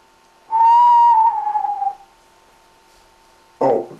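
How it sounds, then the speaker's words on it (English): A single sustained whistle, steady and fairly loud, sliding slightly downward as it fades, followed after a pause by a brief rough burst of noise. "Oh, there's that whistle again."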